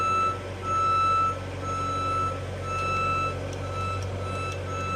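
A JLG 460SJ boom lift sounds its alarm as a steady series of evenly spaced electronic beeps over a low engine drone, close and fairly loud throughout.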